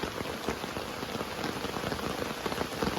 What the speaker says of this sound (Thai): โอ้ฝนตกหนักเลยทุกคน